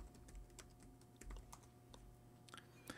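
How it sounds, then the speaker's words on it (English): A name typed into a search field on a computer keyboard, a quick run of faint, close key clicks with slightly uneven rhythm over a low hum. "if I type in Robert Aaron"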